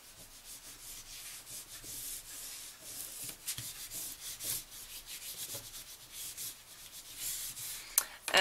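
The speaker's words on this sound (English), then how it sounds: "Push it down in the center and then work your way to either edge. Burnish it down." Paper is burnished down by hand for a folio album, pressed from the center out toward each edge, giving a steady close rubbing and swishing that swells and fades in strokes, with a small click near the end.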